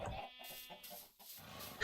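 Chickens clucking inside a small coop on a farm in Minecraft, a few short synthetic clucks and squawks in a loose, irregular rhythm, close and moderately loud, with no talk over them.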